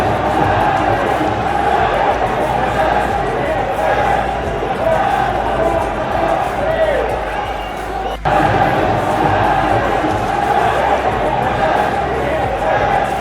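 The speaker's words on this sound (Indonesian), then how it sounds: "Nama Lionel Messi diteriakkan tanpa henti, bahkan saat Ronaldo masih berada di atas lapangan." Stadium football crowd chanting Lionel Messi's name with Ronaldo on the pitch, a dense continuous roar of massed voices with a rhythmic chant pulse, under someone narrating, with a brief dip partway through.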